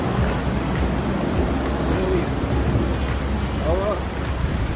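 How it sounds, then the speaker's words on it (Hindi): Dense, continuous hiss of heavy, intensifying rain on the route from Naran to Saiful Malook in Pakistan, with a few faint voices and low rumbles underneath. "बारिश ख़त्म नहीं हो रही और तेज़ हो जा रही है।"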